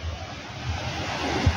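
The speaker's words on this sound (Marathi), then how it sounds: "पाऊस चालू आहे बाहेर." Steady outdoor rain and cold wind in Nagpur: a dense, continuous rushing wash with low gusty rumble from wind hitting the microphone, with no voices.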